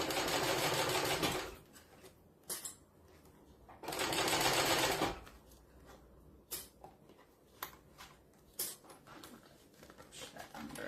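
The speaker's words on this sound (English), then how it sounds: "I'm just going to top stitch that to change my top stitch length" A sewing machine top-stitches a fabric book sleeve in two long whirring bursts, separated by quiet gaps with small clicks and handling taps nearby.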